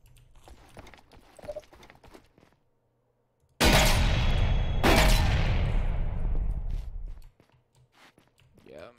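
Shotgun blasts from the Bodark weapons pack in the shooter game Ghost Recon Phantoms: two loud, close booms about a second apart, then a long rumbling roar that fades out, with quieter clicks and shuffling before and after.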